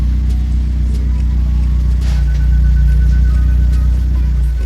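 A Hyundai Veloster N engine idles on its own with the clutch pedal held in, a steady, close, even drone with a low rumbling hum and no revving.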